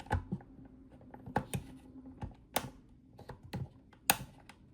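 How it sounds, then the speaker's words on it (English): A thin plastic pry tool works around the edge of a DJI RC 2 controller housing, releasing the plastic clips one after another. The result is a run of sharp, close, irregular clicks and snaps with quiet handling between them. "Insert a thin plastic pry tool into the gap and carefully release the plastic clips around the perimeter."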